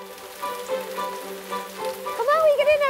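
Heavy rain falls steadily on a surface in rural Killasser, County Mayo, a constant patter close by with a faint voice and a rising tonal sound toward the end.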